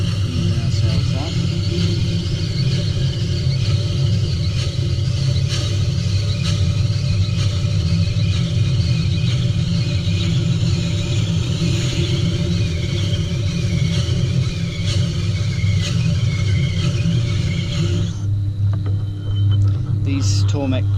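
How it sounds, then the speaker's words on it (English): A low-RPM, high-torque Tormek grinder sharpens a hand-forged Gränsfors Bruk axe, making a continuous low rumble with a grinding hiss on top. It carries on steadily and a voice is heard at times. "These Tormek grinders are very low RPM but very high torque, so you can't stall them actually."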